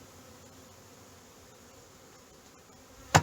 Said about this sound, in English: Just don't want to squish these bees. There's so many of them.